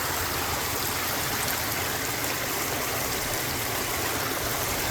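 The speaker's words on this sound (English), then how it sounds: "So they make this area to cut the flow of the water." Water flows steadily through a channel in a big park, a constant broadband rushing hiss that stays even and close throughout without pause.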